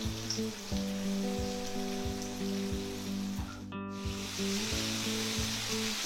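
A whole fish frying in a pan for a sweet and sour dish, a steady close sizzle of hot oil with a brief scrape partway through and a droning hum underneath.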